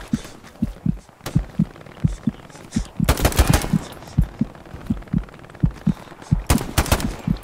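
Rapid automatic gunfire from the video game Hell Let Loose, with loud rhythmic bursts of shots and a couple of dense, crackling volleys, close and punchy throughout.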